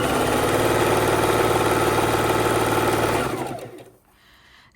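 A sewing machine runs steadily, stitching pink and purple jelly roll quilt strips together in a close, loud, continuous whir for about three seconds before it slows and stops.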